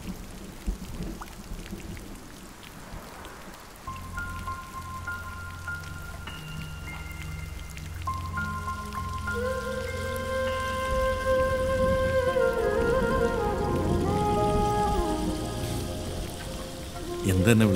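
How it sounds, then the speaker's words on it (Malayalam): First rain of the season falls in a steady wash over surfaces. Music rises in the background and grows louder as the downpour continues. "ആദ്യ മഴ"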